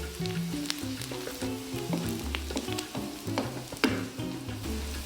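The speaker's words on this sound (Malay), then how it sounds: "Masukkan sedikit haba campur bawang merah ke dalam kuali dan kacau sehingga naik bau" Shallots fry with a little heat in a wok at a cooking demo, giving a steady, close sizzle with stirring scrapes throughout, over tonal background sound.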